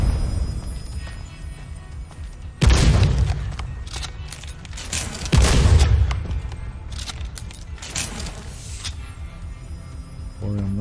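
Explosive rounds fire in the video game Soulslinger: Envoy of Death, producing heavy booming blasts that arrive in separate loud bursts with rumbling tails, with quieter gaps between them.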